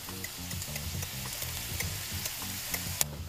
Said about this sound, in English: now our onions are sweating nicely with the thyme added to it